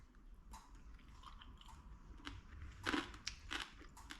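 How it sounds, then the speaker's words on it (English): Close, quiet crunching and chewing of baked pasta, with a few sharper crisp bites standing out midway. "Can you hear it crunchy, guys?"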